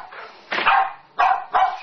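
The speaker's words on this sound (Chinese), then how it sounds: "为什么你家这狗在叫不停啊？" A dog barks close by: a faint yip, then three loud, sharp barks in quick succession, each short and forceful.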